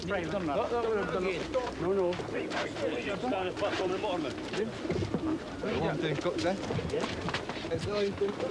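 Many racing pigeons coo and murmur together in a dense, continuous chorus, close by, with a person's voice mixed in underneath.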